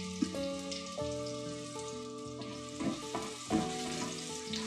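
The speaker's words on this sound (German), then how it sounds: "Die weißen Lauchzwiebelscheiben mit wenig 5 Gewürze pur zusammen anschwitzen." Sliced white scallion rounds sauté with a little five-spice powder in a hot pan for Chinese fried rice, a steady crackling hiss with occasional stirring clatter, while soft background music plays.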